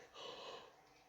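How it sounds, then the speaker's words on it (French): A single abrupt sneeze at the very end, loud and close, preceded by a soft faint inhale or murmur and near silence. "Allez, je vais éternuer."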